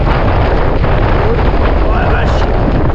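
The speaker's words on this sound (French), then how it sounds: "Le vent en fait est en train de nous ramener la pluie." Strong wind buffets the microphone in a constant loud roar while riders cycle along a gravel path, with speech faint under the rumble.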